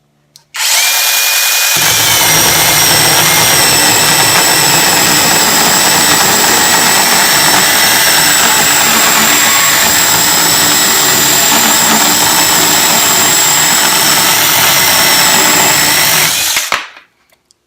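A cheap 20V cordless mini chainsaw cutting leftover decorative wood, a loud, close, high-pitched motor whine that holds steady for about fifteen seconds after a short start. It stops abruptly at the end, with no talking over it.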